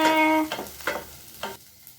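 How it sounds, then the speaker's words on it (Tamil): Onion and curry leaves sauté in a pan for bread masala; a short tonal sound at the start gives way to three distinct close scraping stirs over a faint sizzle. "வதக்கி ஃபை வெங்காயம். வதக்கி ஃபை கருவேப்பிலை."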